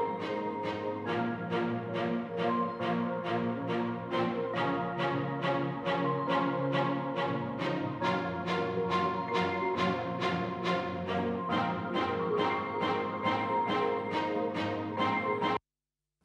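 Three layered synth patches playing solo in a beat-mixing session, a steady pulsing pattern of evenly spaced notes for about fifteen seconds before stopping abruptly, with no voices.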